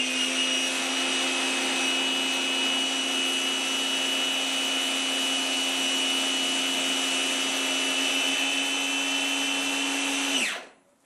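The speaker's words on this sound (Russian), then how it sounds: "Как видите, автомойка работает без проблем" Expert ABW-VSC-90P pressure washer running after a valve repair, a loud, steady motor whine with a constant tone that holds evenly for about ten seconds, then cuts off abruptly at the end.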